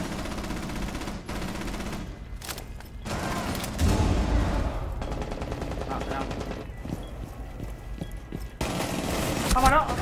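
Bursts of automatic gunfire in a Rainbow Six Siege match, loud volleys broken by short pauses and sharp single shots, with players talking over the firing.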